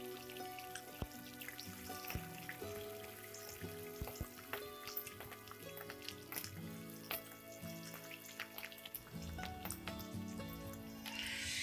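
Slit green chillies fry in hot oil in a pan for poha, making a steady close sizzle with crackling pops and spits throughout, mixed with occasional stirring.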